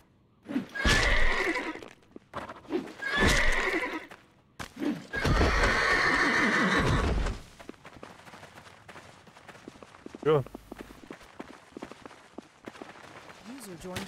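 A horse in the medieval video game Life is Feudal whinnies in several loud bursts, with a faint clip-clop and quieter background noise between them.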